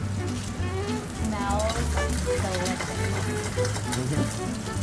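Salmon with chili searing in a hot pan, a continuous close crackling sizzle at moderate volume, with someone talking over it throughout.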